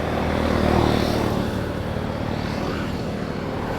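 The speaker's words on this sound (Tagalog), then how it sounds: "May nagdo-drone." A drone flying over Basaw Lake in Cabasan, Peñablanca, giving a steady, broad motor whir that holds fairly loud throughout, with no voices.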